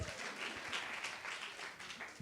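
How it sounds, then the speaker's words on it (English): An audience at a conference talk gives a round of applause, a dense, even wash of many hands clapping continuously at moderate distance, fairly quiet overall. "One more time. Round of applause."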